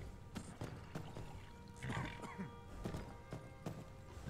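A horse in the Skyrim video game walks at the stables, its hooves making faint, steady clip-clop beats at an even walking pace against quiet background ambience.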